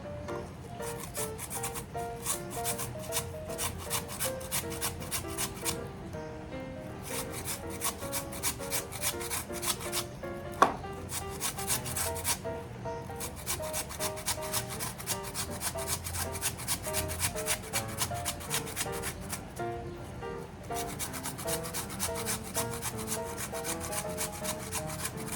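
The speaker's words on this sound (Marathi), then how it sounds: "आता घ्यायचं आणि ह्याला असं किसून घ्यायचं" Potatoes grated by hand on a kitchen grater make a fast, steady run of rasping scrapes with a regular rhythm. The sound continues close and moderately loud for the whole stretch, with one sharp knock partway through.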